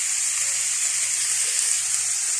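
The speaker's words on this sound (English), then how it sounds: "We're gonna add our chopped up onions. And we're gonna let it cook." Chopped onions and ground beef fry over high heat in a pan for Mexican-style tacos, giving a steady, close, loud sizzling hiss with no voices.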